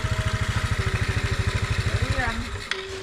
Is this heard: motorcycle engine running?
yes